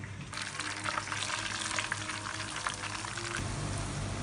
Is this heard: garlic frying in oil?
yes